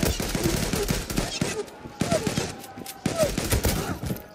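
Pistol gunfire in a shooting video game: a series of sharp shots in irregular bursts under game background noise, with no talk heard.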